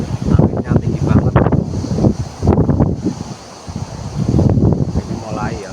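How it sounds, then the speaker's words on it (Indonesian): Heavy outdoor wind roars in uneven gusts, thumping and rumbling across the microphone as someone speaks through it. "Anginnya tinggi banget."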